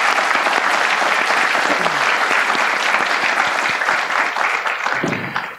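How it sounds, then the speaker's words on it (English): Audience applause at a forum event welcoming speakers, a loud, sustained round of many hands clapping that carries steadily and tapers slightly at the end. "let's give them a round of applause and welcome"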